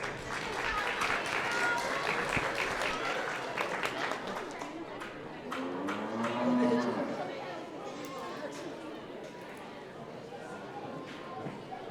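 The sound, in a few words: audience applause at livestock show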